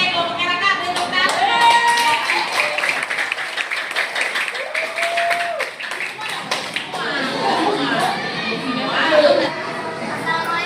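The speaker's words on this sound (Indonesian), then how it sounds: "kelompoknya Raka, beri tepuk tangan." Classroom applause for a student group about to present, many hands clapping loudly and close over about ten seconds, mixed with children's chatter and a few voices speaking throughout.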